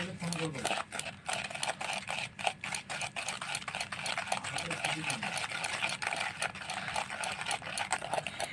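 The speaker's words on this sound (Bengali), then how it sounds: "এবার চিনির গুঁড়োটাকে দিয়ে আমি ভালো করে মিশিয়ে নেব ডিমটার সাথে।" Powdered sugar is beaten into eggs for cake batter, a continuous close whirring churn with fast regular pulses, while a voice is faintly present.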